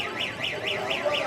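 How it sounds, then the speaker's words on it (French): An air raid siren wails at Tel Aviv airport, a rhythmic rising-and-falling tone cycling roughly four times, loud and steady against a low background rumble. "Et là aussi, la peur s'installe quand l'alarme sonne"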